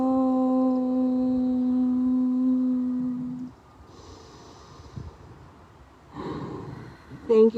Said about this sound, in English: a cleansing breath first. Inhale and exhale.